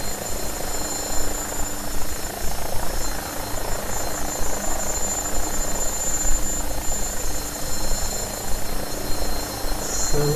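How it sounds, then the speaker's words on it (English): An AgustaWestland AW109SP helicopter in flight, approaching a fix and entering a holding pattern, gives a steady, continuous rotor and turbine drone at even loudness throughout, with no talk. "Helicopter approaching the initial approach fix, and then it will do this part, and then it will hold."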